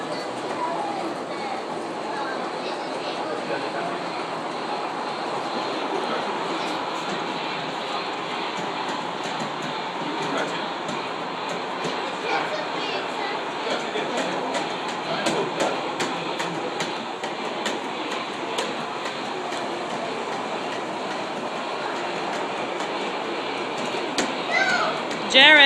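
A train rumbles along steadily with a continuous clickety-clack and rolling wheel noise, fairly loud and close throughout, with no voices rising above it.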